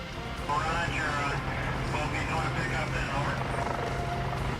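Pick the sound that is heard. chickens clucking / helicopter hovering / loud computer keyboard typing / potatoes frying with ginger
helicopter hovering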